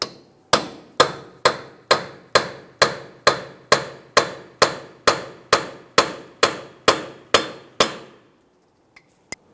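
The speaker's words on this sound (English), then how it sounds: "Let's use a hammer and punch to break the axle free from the wheel bearing." A hammer and punch strike a Ford Explorer axle sixteen times in a steady, even rhythm, each blow sharp, loud and ringing briefly, followed by two faint taps.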